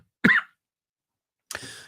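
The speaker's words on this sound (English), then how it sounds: "Again, pardon the cough" A single sharp cough, loud and close, followed after a pause by a shorter throat-clearing rasp.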